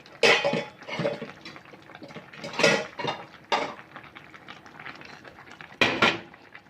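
Vegetable curry with phak plang and naem is ladled out to serve. Close clinks and scrapes of a ladle against a pot come in several separate bursts, with soft liquid sloshes between them and no talking.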